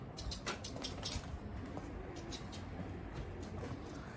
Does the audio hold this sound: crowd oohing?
no